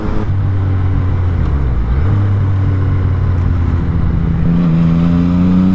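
Motorcycle ridden along a highway and onto an exit in Colorado, engine droning steadily and loud up close with shifting pitch as it changes speed, mixed with rushing wind noise throughout.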